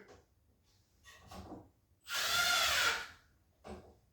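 A power driver runs one short burst of about a second, driving a screw through a drawer slide into a wooden drawer box. It sounds close and loud between quiet handling noises, with no talking.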